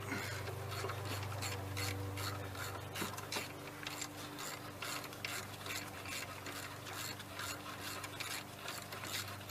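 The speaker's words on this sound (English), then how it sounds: "I start by removing your alternator here. It's 2 15mm bolts." A ratchet works on 15mm alternator bolts of a 2008 GMC Yukon, giving rapid rasping clicks in repeated bursts, close and quiet over a steady low hum, with no talking.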